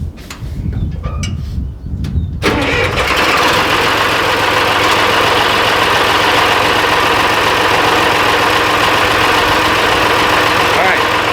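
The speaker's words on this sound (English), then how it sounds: "so now with the tractor started" A tractor engine hooked to a moldboard bottom plow cranks over and fires, then settles into a steady loud idle rumble on a windy day, with a voice speaking briefly before the engine catches.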